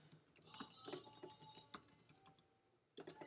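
Rapid bursts of keystrokes clatter on a computer keyboard at close range, irregular clusters of quiet clicks with a brief pause before a final flurry.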